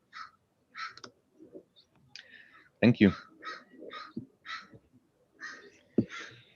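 Crows caw outdoors in Berkeley in a loose series of harsh, fairly distant calls with gaps between them, one louder burst in the middle, and a brief spoken phrase mixed in.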